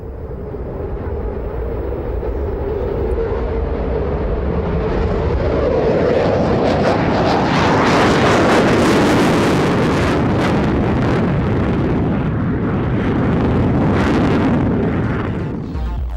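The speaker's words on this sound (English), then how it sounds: "One European aerospace collaboration about to enter service is the Eurofighter Typhoon." A Eurofighter Typhoon jet flying at the Farnborough Airshow, a loud roar that swells as it approaches and passes, then fades slightly, heavily buffeted by wind on the microphone.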